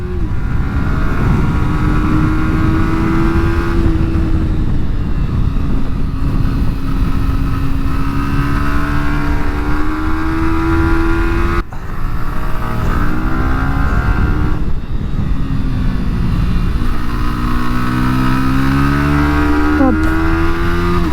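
A 2023 Yamaha R125 motorcycle with an up quickshifter laps a kart circuit. Its engine drones loud and close throughout, the revs climbing and falling through crisp gear changes, with one brief dip near the middle.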